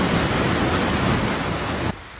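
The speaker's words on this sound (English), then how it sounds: "The noise you're hearing is rain." Steady, dense rain pours down as a loud, even hiss, then stops abruptly near the end, leaving quiet.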